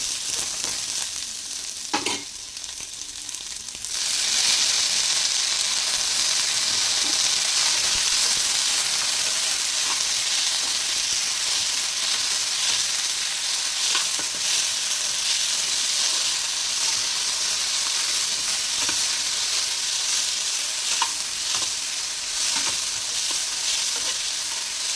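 Ginger, cinnamon, cloves and onion frying lightly in a pan for veg pulao, a steady close hiss and sizzle that swells after a brief quieter start, with a few faint clinks.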